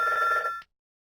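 A cartoon telephone ringing indoors, a bright electronic trill that sounds loudly for about half a second, then cuts off into silence.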